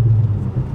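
A 10th gen Honda Civic Si with an ACT clutch upgrade gives a loud, close, low engine rumble as the revs settle, steady and brief with no voices.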